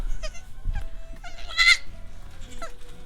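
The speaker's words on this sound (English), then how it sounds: "So these are part meat goat and part Nigerian dwarf." Young goats, a cross of meat goat and Nigerian dwarf, bleat in short bursts close to the microphone, with farm noise and faint movement around them and no clear talk.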